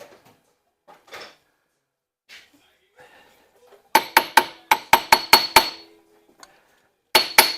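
A ball-peen hammer strikes metal on a stuck snap ring during a RZR 1000 XP axle job, a fast run of sharp ringing blows, then a short pause and a few more hits, loud and near after quiet rustling.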